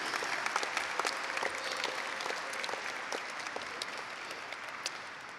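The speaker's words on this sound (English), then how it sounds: "Clap it up" A high school graduation audience applauds steadily, a dense wash of clapping from a large crowd that holds at an even level throughout, with no talk over it.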